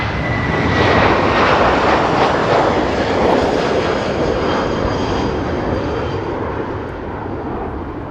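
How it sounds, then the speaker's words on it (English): An Airbus A330 departs Manchester Airport bound for Istanbul, its engines a loud, steady broadband roar that holds strong throughout and eases only slightly toward the end, with no talk over it. "A330 outbound to Istanbul. I'll tell you what, not a bad sound on that one."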